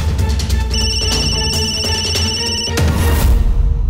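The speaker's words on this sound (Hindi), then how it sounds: "रघु का फोन था।" A mobile phone rings loudly and close by, a repeating electronic ringtone melody that continues for several seconds with no speech over it.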